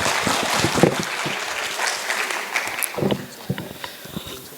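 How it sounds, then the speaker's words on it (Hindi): At a college poetry event, an audience claps to welcome a poet, a moderately loud patter that thins into scattered, uneven claps toward the end. "जोरदार तालियों से स्वागत केतन धामोदे"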